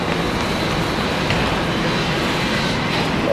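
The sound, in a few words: commuter train on the Ronkonkoma line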